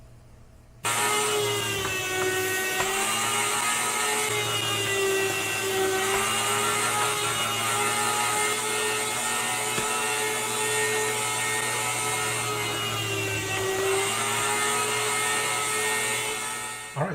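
An Ostba 200W electric meat slicer running while cutting meat into 4-millimeter slices, a loud continuous motor whine with a steady hum that stays level for the whole stretch, with no talking.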